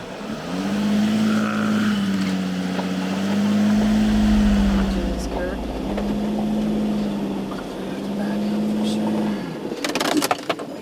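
A van's loud, straining engine drones steadily, its pitch rising and falling as it labors up a steep, tight mountain road in Montenegro, with a brief rattle at the end.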